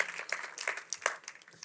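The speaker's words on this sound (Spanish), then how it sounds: "darle un aplauso al Señor" A church congregation applauds in a fairly quiet, scattered way, with individual claps audible within a thin ripple of hands.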